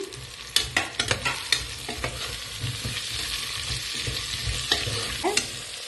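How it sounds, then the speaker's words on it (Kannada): Carrots, beans and potatoes fry in a pan, a steady sizzle broken by clattering stirs and spatula scrapes, strongest early on, with no voices. "ಇವಾಗ ಇದಕ್ಕೆ ನಾವು ಕ್ಯಾರೆಟ್ ಮತ್ತೆ ಬೀನ್ಸ್ ಹಾಗೆ ಆಲೂಗಡ್ಡೆ ಹಾಕಿ ಫ್ರೈ ಮಾಡ್ಕೊಳ್ಳೋಣ"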